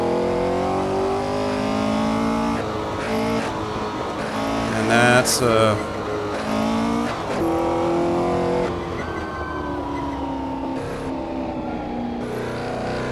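A 1964 Porsche 904/8 race car revs hard in second gear, its engine climbing toward an 8,000 rpm redline on the Targa Florio road course, a loud continuous rising and falling roar close up with brief shifts, and a voice talking over it at times.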